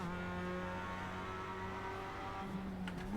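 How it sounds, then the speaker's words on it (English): A racing car engine drones steadily at high revs in the Assetto Corsa sim racing game, its pitch holding nearly level before shifting slightly near the end, loud and continuous with no talking. "Rev that engine."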